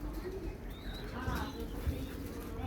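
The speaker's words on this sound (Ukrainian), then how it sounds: "Який тут великий є голуб, Маркусечка." Soft, low cooing of a large pigeon against a murmur of outdoor background noise, fairly faint and steady.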